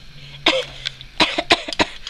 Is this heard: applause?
no